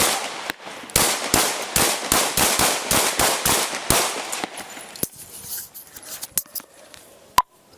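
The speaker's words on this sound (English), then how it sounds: ".223 shots fired" Gunshots during a police confrontation with an armed suspect in Rochester, NY: a rapid string of about a dozen loud, sharp close reports over four seconds, followed by scattered fainter pops and clicks.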